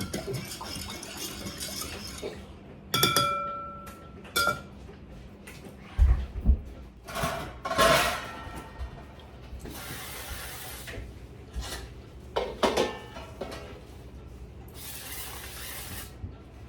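Metal pizza pans clatter and scrape as they are handled, with sharp clanks scattered among bursts of hissing cooking spray and no talking.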